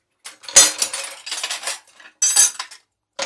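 Metal kitchen utensils, spatulas, tongs and flippers, clatter and clink together as they are handled in short close bursts with brief silent gaps between.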